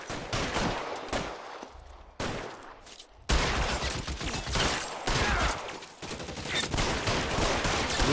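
Gunfire in LA Noire on PS4: several loud bursts of shots with short gaps between them, building into a dense, continuous volley of rapid firing.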